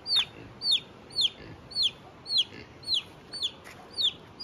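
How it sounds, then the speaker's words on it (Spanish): A lone chick left without its mother peeps in a steady series of high, downward-sliding cheeps, roughly two each second, fairly faint and close, with no talking. "este pollito ya se quedó aquí solito"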